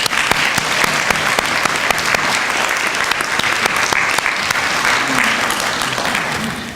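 Audience applause at a 2016 master's hooding and graduation ceremony, loud sustained clapping from a large crowd that fills the whole stretch and eases off slightly at the end.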